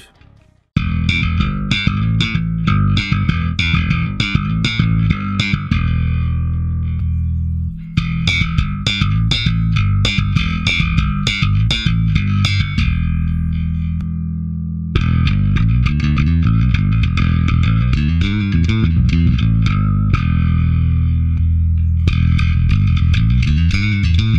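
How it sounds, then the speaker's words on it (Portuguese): Bass guitar played through a NIG Bass Plus pedal in its second EQ mode with boosted lows and highs, suited to slap: loud, busy plucked and slapped phrases in three runs with brief gaps, percussive attacks over deep sustained notes. "A segunda equalização é acionada quando você pressiona o botão mais EQ, e ela tem mais graves e mais agudos."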